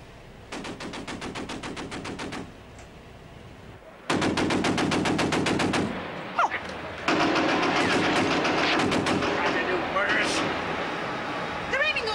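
Warship big guns firing in a 1973 television drama: bursts of rapid, rattling gunfire in long sustained volleys separated by brief pauses, loud and dense, with voices speaking over parts of the barrage.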